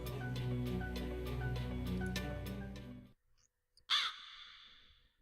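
A raven in the fantasy video game Loren the Amazon Princess gives a single loud, harsh caw that rings out briefly after a stretch of game music ends.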